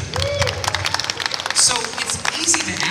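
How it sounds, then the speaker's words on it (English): Applause from a convention Q&A audience, scattered clapping and crowd noise mixed with a voice talking over it, moderately loud and uneven. "A round of applause."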